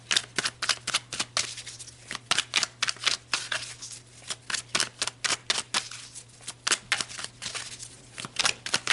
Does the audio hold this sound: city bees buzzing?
no